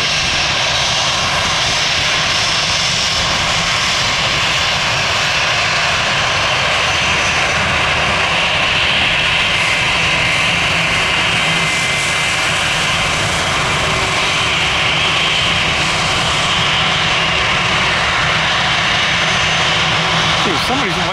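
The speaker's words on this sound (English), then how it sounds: "that looks like the new A321neo" Airbus A321neo jet airliner engines roaring loud and steady at an airport, a continuous broad rumble with a whining tone throughout, while people talk faintly underneath.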